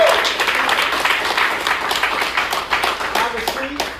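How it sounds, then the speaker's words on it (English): A room of attendees at a real estate meetup claps in a loud, sustained round of applause that tapers off near the end as a voice starts to speak. "round of applause"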